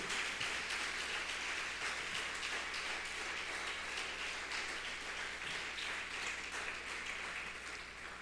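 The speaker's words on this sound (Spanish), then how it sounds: "Dale un aplauso, aleluya." A church congregation claps in a sustained, even wash of applause, fairly faint and distant, with a low steady hum underneath and no talking.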